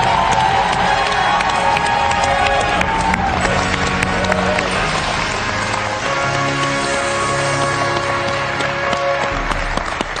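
Crowd at a francophone competition finale ceremony applauds and cheers for about ten seconds, with clapping, shouts and whistles mixed with music and an announcer's voice, staying loud and busy throughout.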